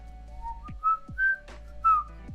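A person whistles a slow, halting phrase of a song, three sustained notes separated by pauses, close and moderately loud over a faint low hum.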